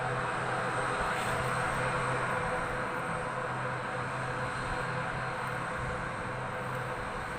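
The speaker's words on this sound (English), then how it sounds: "I think that is ATR 62. Malindo Air." Malindo Air ATR turboprop airliner taking off, registration 9M-LMQ, bound for Penang: a continuous broad engine roar with a steady tonal hum, heard from a distance at constant level, no speech.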